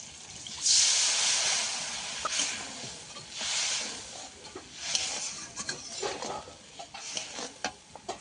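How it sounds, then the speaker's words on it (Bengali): A paste of poppy seeds and white mustard seeds simmers with water in a pan, giving a soft, uneven bubbling hiss with small pops, fairly quiet and close with no voices. "এই যে ভালোভাবে ফুটে গেছে, আরও একটু ফুটিয়ে নেব।"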